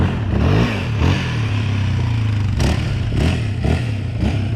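A dirt bike engine revs loud and close while riding, its throttle surging and dropping in repeated bursts with rattling clatter over a steady rumble.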